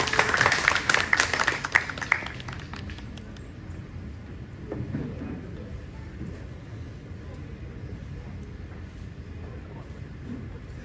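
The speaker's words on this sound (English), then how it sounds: "Could we have a round of applause for Rakshan, please?" An audience applauds after a guitar boogie performance at a college day event, with a dense burst of clapping for about two seconds that fades into quieter crowd murmur and scattered sounds.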